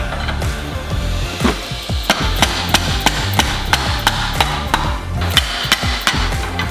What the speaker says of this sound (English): The crowbar of persuasion.